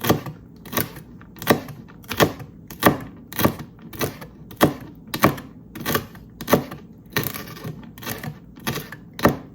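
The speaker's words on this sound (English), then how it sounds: "Just chop it nice and small." A knife chops vegetables for a Thanksgiving soup into small pieces on a cutting board, giving a steady run of about fourteen sharp, close knocks at an even rhythm with no talking.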